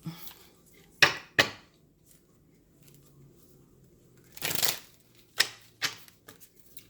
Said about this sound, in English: I shuffle all of the cards, whether I'm going to use them or not